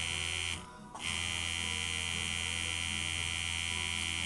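A rotary tattoo machine with a magnetically driven A-bar runs close by in a steady, loud electric buzz, briefly cutting out for a moment before resuming.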